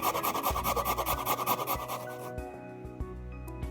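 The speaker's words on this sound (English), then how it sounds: "you're going to get the finest grater you can, and then you're just going to finely grate that" Peeled fresh ginger rubbed briskly on a fine grater in a rapid rhythmic rasp, which then gives way to a few scattered light taps.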